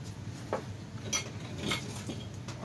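A piece of naan bread, roughly 8 by 10 inches, is set down on a metal broiler pan, giving a few light clinks and taps against a faint kitchen background hum, with no talking.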